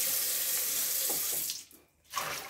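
Tap water runs steadily into a kitchen sink while mustard greens are rinsed, a broad close splashing rush that briefly thins and nearly stops before the flow surges back.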